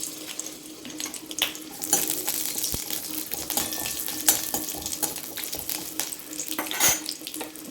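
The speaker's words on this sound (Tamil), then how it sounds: "போட்டுட்டு நல்லா வதக்கிக்கலாம்" Slit green chillies and garlic sautéing in a pan for a coconut-free Madurai-style chutney, a continuous crackling sizzle with irregular spatula scrapes and light metallic taps, close and moderately loud, no voices.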